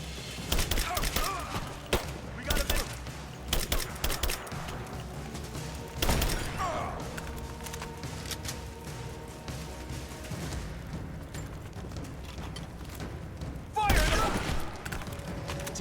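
Rifle shots in Rise of the Tomb Raider ring out in scattered bursts and single cracks over an echoing, rumbling combat backdrop. A few loud reports stand out, and a voice talks faintly underneath.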